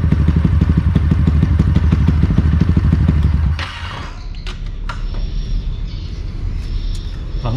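A motorcycle engine chugs loudly and rhythmically during a clutch test with a four-plate steel, five-plate friction clutch, then cuts off abruptly, leaving quieter clatter and light knocks.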